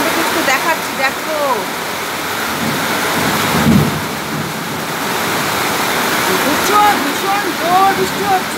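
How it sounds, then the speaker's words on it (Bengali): Heavy monsoon-style rain pours down outside a home shrine room, a loud, dense, unbroken roar with low thunder rumbling through it, while a voice talks over the downpour. "খুব জোরে বৃষ্টি হচ্ছে"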